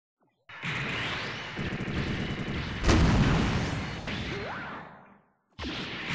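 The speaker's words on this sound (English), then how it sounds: "I want to see if those beam cannons knock down" Heavy sci-fi beam cannon blasts from a Gundam game roar out, one big boom mid-way with whooshing energy sweeps, then a brief silence before another burst.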